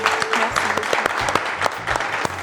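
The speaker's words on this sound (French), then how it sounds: "J'ai envie qu'on applaudisse" Brief applause from an audience at a talk on children's emotional development and trauma, a thin scatter of separate claps rather than a dense roar, lasting a couple of seconds.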